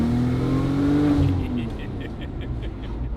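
A Porsche 911 Turbo six-cylinder engine revs, a strong tone rising and falling over the first second and a half before easing off into a lower rumble with faint ticking.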